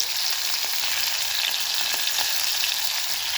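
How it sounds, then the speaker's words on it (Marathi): Drumstick pods sauté in oil within a spiced tempering, giving a steady, fairly loud frying crackle with faint stirring and no speech over it. "त्या फोडणीमध्येच आपल्याला शेंगा अशा तेलामध्ये छान अशा परतून घ्यायचा आहे"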